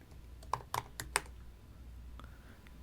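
A handful of crisp keystrokes on a computer keyboard, close and quiet, clustered in a quick irregular burst in the first second and a half, then fading to low room hiss with a faint click or two.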